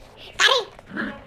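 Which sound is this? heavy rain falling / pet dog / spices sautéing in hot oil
pet dog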